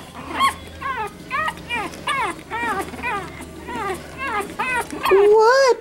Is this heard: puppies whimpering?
yes